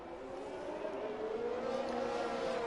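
Racing engines from F1 cars in a sim racing game, an orange McLaren closing on a red Ferrari through the Singapore street circuit, hold a steady whining drone with a slowly rising pitch under crowd-like ambience, continuous and fairly even.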